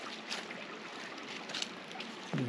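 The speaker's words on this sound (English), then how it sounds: "You can hear it, but not see the brook. It's under all these rocks." A brook runs unseen beneath rocks by a small footbridge on a wooded hiking trail, giving a faint, steady wash of trickling water with a brief low thud near the end.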